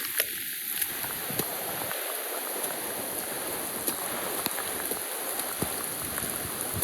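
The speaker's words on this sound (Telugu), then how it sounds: "అరే ఏంట్రా ఈ వర్షం?" Rain falling on a waterfall trek near Devkund Waterfall, Pune, a steady broadband hiss of rain close around with scattered sharper drop taps throughout, no talk.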